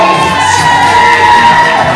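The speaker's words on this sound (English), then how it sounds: "Let's give him a nice big round of applause." A wedding reception crowd cheers and whoops loudly for a groom, a dense burst of shouting and cheering voices that fills the short moment without a break.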